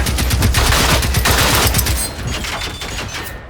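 Rapid automatic gunfire from experimental weapons in the video game Generation Zero, a dense, loud burst of shots for about two seconds that thins into scattered rattling and echoing reports.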